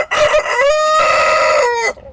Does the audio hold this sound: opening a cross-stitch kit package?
no